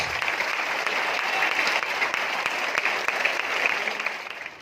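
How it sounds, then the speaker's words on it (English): An audience at a school Principal's Day and Diwali celebration in New Delhi applauds a student performance with dense, steady clapping that stays loud and even throughout before easing slightly at the end. "let us give a round of applause for the beautiful performance."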